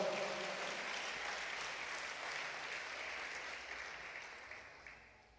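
A church congregation applauds in a soft, steady wash of clapping that gradually fades toward the end, heard quietly from a distance.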